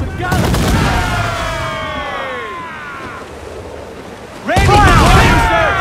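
Ship cannons fire in a naval battle in the video game Assassin's Creed 4 Black Flag, a loud booming volley opening and another heavy blast near the end, with shouting crew voices and rushing sea wind between.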